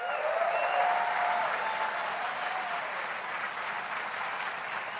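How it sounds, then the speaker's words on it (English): Sustained audience applause fills a large hall at Apple's WWDC 2017 keynote, an even roar of many hands clapping at steady volume throughout, with no talk over it. "Let's give them a big round of applause."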